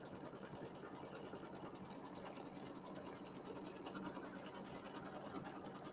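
Embroidery sewing machine stitching a quilt border with batting and stabilizer, a steady rapid mechanical whir and needle chatter running continuously and fairly close.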